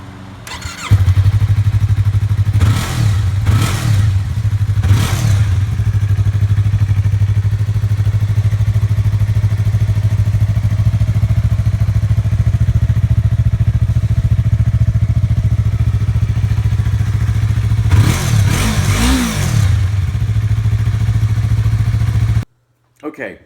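A 2015 Yamaha YZF-R3 motorcycle fitted with a Yoshimura slip-on muffler idles steadily and loudly up close, with a pair of quick throttle blips early on and another cluster of revs near the end.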